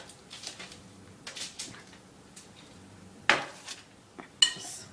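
Toasted eggplant pieces tossed with cooked kamut grain in a bowl, giving short soft scrapes and clinks of a serving utensil, then a sharper knock and a bright clatter near the end, no voices.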